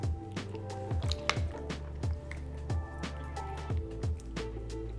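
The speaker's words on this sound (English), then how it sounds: "I'm gonna stir it up a little bit more and add some more." Pasta shells coated in cheese are stirred in a pot, giving close, wet, sticky squishing with a steady rhythm of strokes and faint drips, over a constant low kitchen hum.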